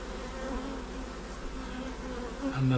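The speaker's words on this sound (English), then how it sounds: "And they're very, very nice bees." Honeybees buzz steadily in an open beehive, a dense, close, continuous hum with no voices over it.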